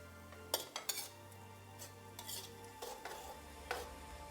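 A utensil stirs fried beans around a pan, giving quiet scattered scrapes and clinks against the metal over a faint, low sizzle.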